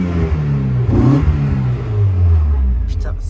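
A 1990s Mazda Miata with its Japanese engine warmed up, revving close by in a steady, throaty drone that swells and eases, with a voice talking over it.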